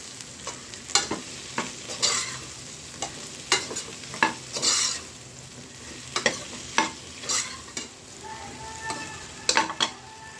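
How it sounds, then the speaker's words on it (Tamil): Brinjal sautéed in a pan for sambar gives a soft, continuous sizzle, broken by repeated sharp scraping strokes of a spatula stirring the pieces at close range. "கத்திரிக்காய் சேர்த்துக்கலாம். ஸோ இதையும் ஒரு 1 மினிட் வதக்கிடலாம்."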